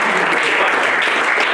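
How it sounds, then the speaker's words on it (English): A church homegroup congregation gives a loud, sustained round of clapping in praise, dense and steady from start to finish, with voices faintly mixed in. "Let's give a mighty clap of praise."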